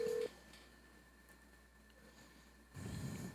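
Brief phone dialing tone at the start, then a quiet hiss of a line connecting, ending in a louder rumble of noise, with no voices in it.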